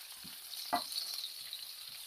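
Onion frying in a pan, a soft steady sizzle with a single louder crackle partway through, close and fairly quiet with no voices.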